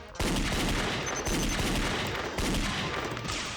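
A quick volley of gunshots in the Danganronpa Another fan game, loud and dense, starting abruptly after a brief silence and surging again partway through.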